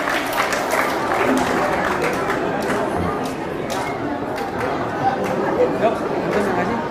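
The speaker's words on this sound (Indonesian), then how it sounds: "Tepuk tangan." An audience at an Islamic health talk claps for a door prize, a dense, continuous round of applause mixed with crowd chatter and murmuring voices throughout.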